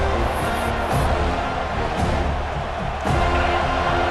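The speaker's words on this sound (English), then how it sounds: "the crowd really making some noise now, trying to help out this defense to get this stop near the goal line" Stadium crowd noise in the EA Sports College Football 26 video game, a dense continuous roar of cheering near the goal line, broad and steady with a swell near the end.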